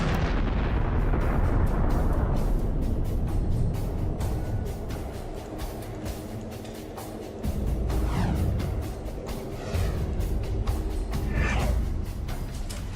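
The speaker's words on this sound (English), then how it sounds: "the remaining stuff will evaporate in a colossal explosion" A colossal explosion sound effect, a dense roaring blast that rumbles loudly and continuously, with layered crackling debris and booming surges throughout, no voices.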